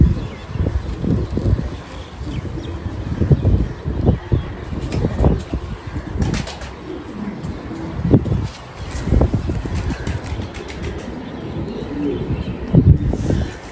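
A pigeon coos in low, repeated throaty calls, close and fairly loud against soft outdoor wind and faint chirps, with no talking.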